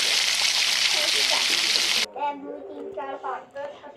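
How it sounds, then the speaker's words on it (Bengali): Beans, eggplant and potatoes seasoned with turmeric and salt sizzle loudly while being stirred and fried with a little water; the frying hiss cuts off halfway and a voice talks afterwards. "একটু জল দিয়ে ভালোভাবে নেড়ে চেড়ে নিয়ে ভাজতে হবে।"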